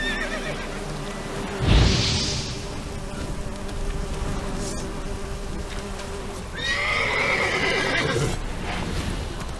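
Roach, the horse in The Witcher 3, lets out a short loud snort and then a long whinnying neigh, set against steady insect buzzing and outdoor ambience.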